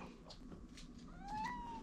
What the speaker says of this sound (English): This is my sister cat, Sage.